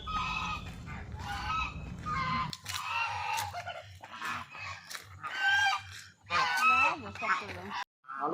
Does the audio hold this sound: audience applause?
no